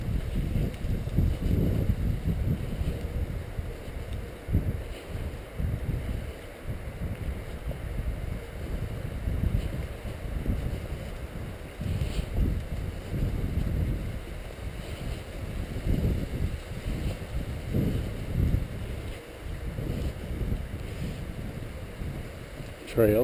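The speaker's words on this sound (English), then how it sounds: "Very windy day." Strong gusts buffet the microphone on a riverside trail, a heavy low rumble that surges and dips continuously for the whole stretch, with no other sounds rising above it.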